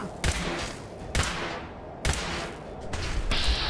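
Gunfire in Fallout 4, three loud sharp shots spaced roughly a second apart, each with a ringing tail over a steady noisy background, the last stretch busier with quicker rattling fire.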